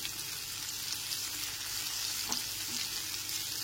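Steady, close sizzling of potatoes and cauliflower frying in a pan, with a faint occasional stir, quiet and even throughout.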